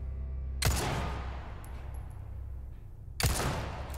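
Two sharp, loud gunshot blasts in Resident Evil 4, about two and a half seconds apart, each with a booming tail, over a steady low rumble of game ambience.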